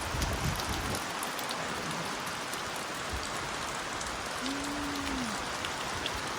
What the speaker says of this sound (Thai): อ่ะฝนตกรุนแรงมาก